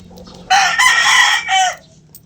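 A hen in a coop crows and cackles in one loud, close outburst of two strained calls, with quiet surroundings before and after.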